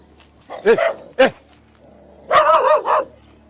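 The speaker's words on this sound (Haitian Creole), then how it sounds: "Chien jappé." A dog barks nearby: two sharp barks, a short pause, then a quick burst of several more yips and barks, with a quiet background.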